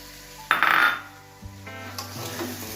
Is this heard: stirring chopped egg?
yes